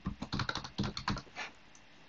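Fast typing on a computer keyboard, a dense burst of clicking keystrokes in irregular runs with short pauses, close and fairly loud, no voices.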